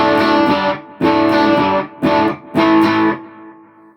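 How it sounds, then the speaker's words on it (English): Electric guitar played through a Boss Katana amp with excessive distortion, several loud, heavily saturated chords struck in bursts with short gaps, the last one ringing out and fading. "That's too much distortion."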